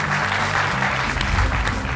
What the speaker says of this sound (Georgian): აპლოდისმენტებით გავაცილე